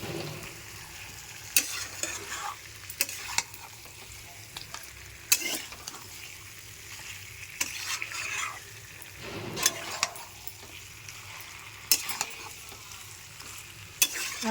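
Potatoes and eggs sauté in a pan for an egg curry, with a soft, continuous sizzle and repeated scraping stirs of a spatula, close and fairly quiet.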